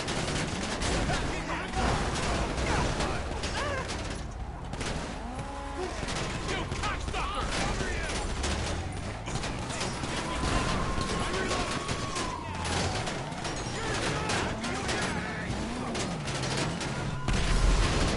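Gunfire in the video game GTA 5, bursts of shots running continuously under a busy mix of game noise, with occasional booms and a voice talking over it.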